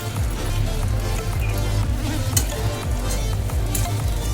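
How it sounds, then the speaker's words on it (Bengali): A yogurt and cashew paste with ginger and green chilli stir-fries in a pan for a white potato dum, giving a steady close sizzle with soft scraping stirs throughout and no one talking. "দই আর কাজু বাদামটা আদা আর কাঁচা লঙ্কার পেস্টের সঙ্গে একসঙ্গে একটু নেড়ে দিচ্ছি, মানে কষিয়ে নিচ্ছি"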